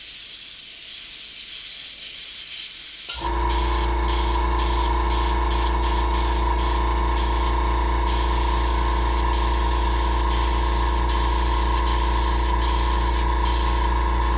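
An Iwata Eclipse HP-CS airbrush spraying paint: after a quiet start, a loud, steady, close hiss of air begins abruptly and continues without a break.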